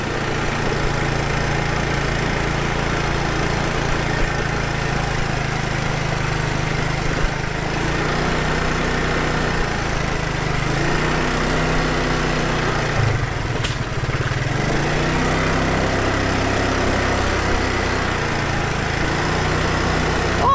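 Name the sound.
motorcycle engine running while hauling tiles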